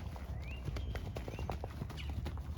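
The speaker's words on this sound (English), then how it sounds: "Now we're having a good working trot." Horse hooves in a working trot during a riding clinic, a steady quick clip-clop rhythm close by over a constant noisy background, with faint voices.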